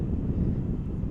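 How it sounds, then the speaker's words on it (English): Boeing 787 Dreamliner airliner at DFW airport, a deep continuous rumbling roar of jet engines with some wind buffeting, loud and unbroken across the short stretch. "Dreamliner is rocking and rolling"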